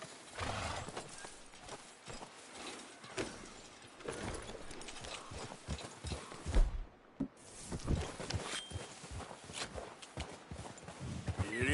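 Video game horse hooves clip-clopping at a walk on PS4, fairly faint and uneven, with occasional soft thuds and a muffled voice in the background.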